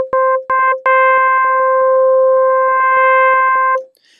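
FM synthesizer tone with carrier and modulator at a 1:1 ratio, a bright harmonic-rich note struck in three short stabs followed by one sustained note that cuts off cleanly, loud and alone.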